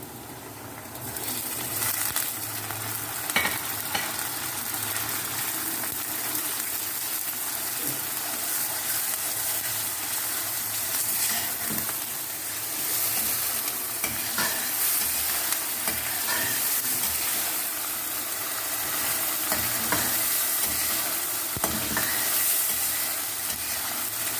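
Beef keema fries with green chillies and onions in a pan, a long, steady sizzle and hiss broken by occasional scraping stirs, with no speech.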